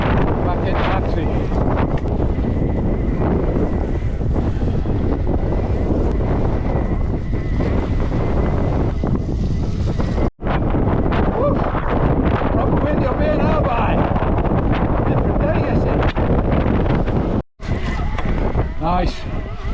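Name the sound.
wind blowing on a fell walk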